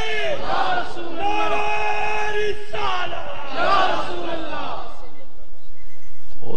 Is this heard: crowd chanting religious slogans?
yes